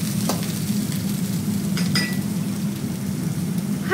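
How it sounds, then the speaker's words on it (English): Red curry paste stir-frying in a pan for chu chi salmon, a steady close sizzle with light scraping stirs, running on its own without talk. "Then we just make sure that we just stir fry for a second."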